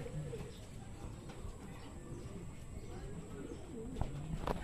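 A pigeon out on a club training flight coos faintly and far off, with a few soft low calls over a steady outdoor background hiss.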